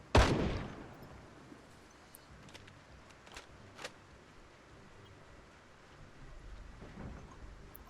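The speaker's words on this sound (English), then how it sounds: "I'm just going to use one more shot from the gun, even if it's not at anything." A single sharp gunshot from a firearm in the survival video game Project Zomboid cracks out at the start, then fades into low ambient hum and faint scattered ticks.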